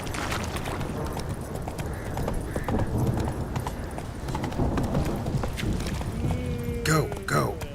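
Roach the horse gallops in The Witcher 3: Wild Hunt, a steady rapid clip-clop of hooves running through the whole stretch, mixed under game speech and a brief whinny near the end.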